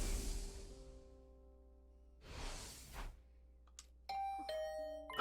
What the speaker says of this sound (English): Oh, was that my doorbell?